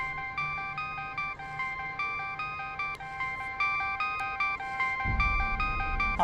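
A phone rings with a repeated electronic ringtone in short, evenly spaced bursts, loud and close, with a low thump entering near the end.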